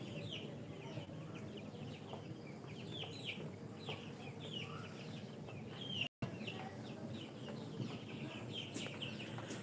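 Native breed chickens on a farm cluck and call in short, scattered bursts at moderate distance, with a soft outdoor bustle and faint voices in the background.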